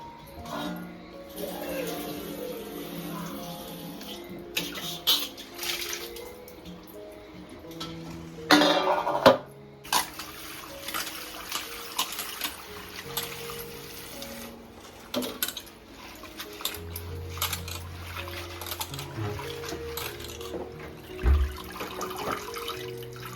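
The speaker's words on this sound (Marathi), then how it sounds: "आता आपण भाजी स्वच्छ पाण्याने धुवून घेऊ मस्तपैकी" Water sloshes and splashes in a basin as leafy vegetables are swirled and rinsed, with occasional clinks of a vessel, close by.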